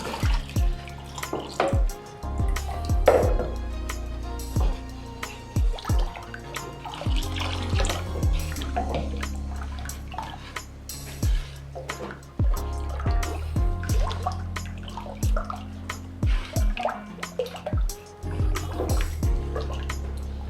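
Liquid is poured into a homemade hair conditioner mixture, the last half liter added in a steady stream with splashing and dripping for about twenty seconds, close by and fairly loud.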